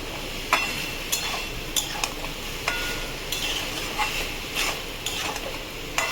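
Soybean chunks stir-fried with spices in a pan, a steady oil sizzle broken by sharp periodic scrapes of a spatula roughly every half second to second, close and fairly loud, with no talking.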